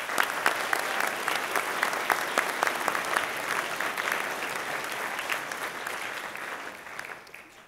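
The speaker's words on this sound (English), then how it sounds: "Will you please join me in a round of applause?" A commencement audience at a spring graduation ceremony claps in a steady round of applause, moderately loud and even, tapering off toward the end.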